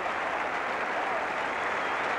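A cricket crowd applauding and cheering David Gower reaching fifty in a Test match, producing a dense, steady roar of clapping throughout.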